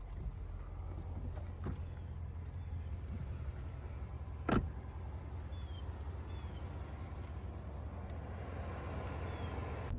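A 2021 Cadillac Escalade Sport pulling out onto the road, heard from inside as a low, steady rumble of engine and tyre noise with one brief knock midway, quiet and without talk.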